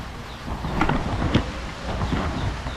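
Steady rain pours down outdoors, a dense broadband hiss with rumbling low end and a few sharp gusts or cracks, with no talking.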